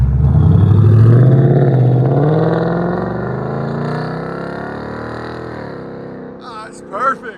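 A Ford Mustang GT 5.0L V8 with an H-pipe and Flowmaster Outlaws exhaust roars loudly up close, then the deep rumble winds down and settles into a quieter idle, with a brief voice near the end.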